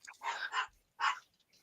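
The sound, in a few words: dog barking in the distance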